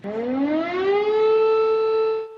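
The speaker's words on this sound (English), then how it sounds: "Sirens sound as explosions are heard moving closer and closer to the country's largest city." A loud air raid siren in Ukraine during the Russian attack rises in pitch and then holds a steady wailing tone, sounding alone and continuously before cutting off.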